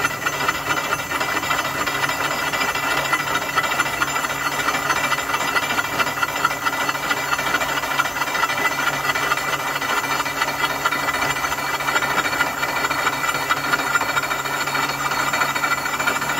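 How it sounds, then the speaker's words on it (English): Milling machine taking a light finish pass of a couple thousandths on a fixture for a Comec ACF200 cylinder head milling setup, a continuous loud, even mechanical whirring hiss at slowed feed with no break. "Okay, just taking a light finish pass. A couple thousandths. Slowing the feed rate down a little bit."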